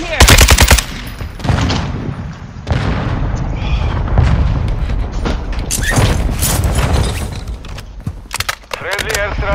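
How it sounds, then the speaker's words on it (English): Friendly airstrike explosions and gunfire in a military shooter, loud bursts of machine-gun fire and booming blasts in rapid, uneven clusters, with voices talking over the combat. "Friendly airstrike in the AO."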